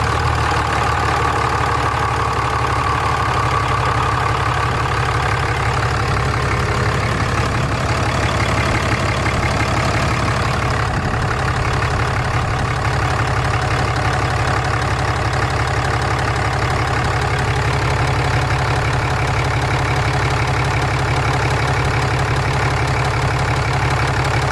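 A 6.7 Cummins diesel engine idles steadily right after its first start-up, a loud, continuous low rumble with a faint knocking texture that stays even throughout.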